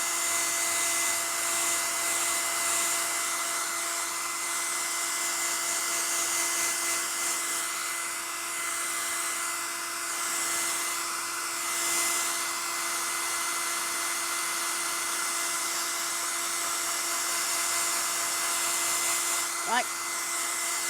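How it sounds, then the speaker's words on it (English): A hair dryer blows steadily over masking fluid on a painting, a loud continuous whooshing whine with a constant electric hum, running unbroken for about twenty seconds. "if I move the hairdryer over quickly, it makes it feel like it's going to dry any quicker"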